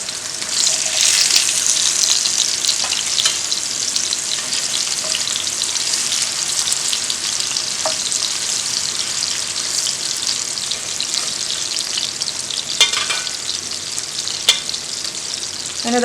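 King fish shallow frying in a pan of oil gives a loud, dense, continuous sizzle that hardly varies, with a few faint clicks near the end and no voices.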